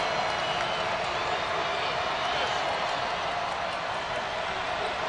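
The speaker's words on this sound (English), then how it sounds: "The crowd, they're calling for him. They want to see him continue this play. It's getting loud here at Colonial Life Arena." Steady, dense crowd noise fills a college basketball arena during a Stetson vs. South Carolina game at Colonial Life Arena, a loud continuous roar with scattered cheering and claps throughout.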